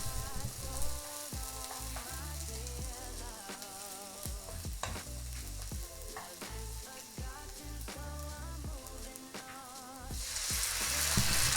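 Onions sizzle in a pan with parsley stems and bay leaves, a steady close crackling fry broken by repeated scraping stirs, growing louder toward the end, with no voices.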